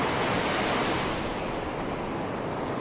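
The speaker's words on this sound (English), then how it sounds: "ocean with waves" Ocean waves wash on a shore in a steady, broad roar with a gentle swell and fade, heard alone with no voices.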